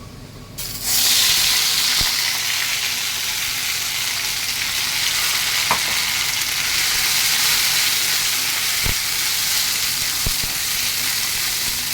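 After a brief quiet start, a loud sudden sizzle rises as kharkol leaf paste goes into a pan of garlic fried red, then holds as a steady close frying hiss with a few faint clicks and no talking.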